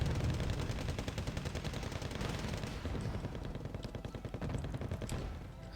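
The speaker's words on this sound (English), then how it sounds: "There goes another Abrams shot right in the back of the tank" Rapid, loud gunfire in a Wargame Red Dragon battle as an M1 Abrams tank is struck in the rear, with dense overlapping machine-gun bursts and shots running almost continuously before easing slightly at the end.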